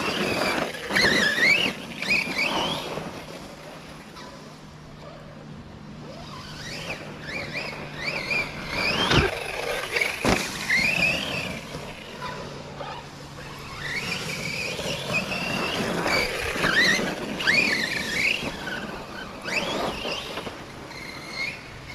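Engine of an RC car revving and whining in rising and falling bursts over a long stretch, with squealing tones and short gaps between runs.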